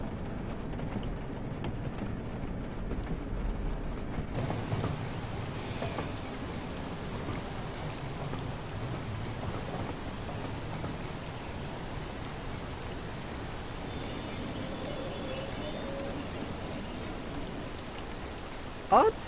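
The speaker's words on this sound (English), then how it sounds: "The way the rain is, it's like a stormy wind." Steady rain pours in a train simulator with a stormy wind, a constant hissing wash that lasts the whole time, with a faint whistle-like tone partway through.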